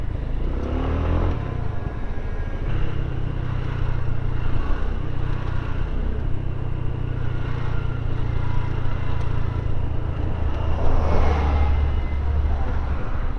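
Steady low engine drone and passing road traffic surround a Harley-Davidson Pan America motorcycle on a busy city street, with wind noise and occasional louder swells from nearby vehicles, no talking.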